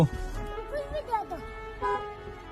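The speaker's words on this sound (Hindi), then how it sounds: "मेरी गाड़ी का हॉर्न है वो, मेरे से गलती से दबा" A car horn honks a couple of times amid traffic noise, with people talking over it.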